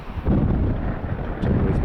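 Gusty wind buffets the microphone outdoors at an airport spotting location, a loud low rumble that swells and eases over two seconds.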